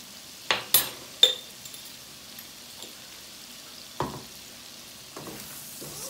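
Garlic shrimp with pepper powder frying in a pan, a quiet background sizzle broken by a few sharp clinks and scrapes of stirring near the start and again later.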